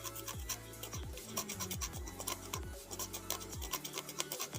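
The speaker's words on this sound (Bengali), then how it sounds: "একটা কাটার কিংবা একটা ব্লেড দিয়ে সুন্দর করে ওই বলটির যে স্থানে থাকে ওই বলটির জায়গায় হালকা করে ঘষে নিতে হবে।" A cutter or blade lightly scrapes an LED bulb during repair, making short repeated raspy scratching strokes in an uneven rhythm, close up, over a faint low background tone.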